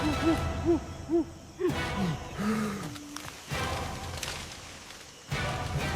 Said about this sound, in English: A pant hoot descends from the middle canopy.